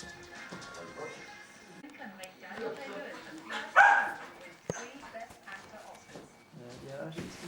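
A dog escorting a visitor in Cumbernauld gives a brief sharp bark midway, heard under ongoing conversation and background noise.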